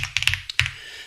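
A short flurry of keystrokes on a computer keyboard, a few quick taps then a final pair, close and crisp with no speech.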